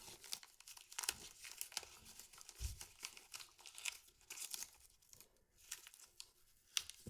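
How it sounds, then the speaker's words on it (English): Tape is pulled and torn off a roll to fix a sander paddle during stair refinishing, a close series of crinkly ripping and crumpling bursts with no talk. "I take some tape, and I tape down this paddle."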